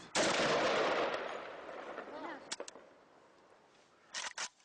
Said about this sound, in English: Muntasser and his men are among the Palestinian fighters who are shooting back.